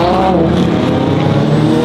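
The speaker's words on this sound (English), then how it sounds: "after our session, I had to come check out the unlimited class cars." Unlimited class race cars run on the track with loud, close engine roar and layered harmonic whine that stays continuous throughout, and no voices.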